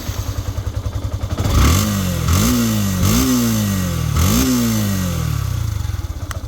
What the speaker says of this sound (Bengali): তো এখন হচ্ছে স্টার্ট করে সাউন্ড কন্ডিশন দেখাবো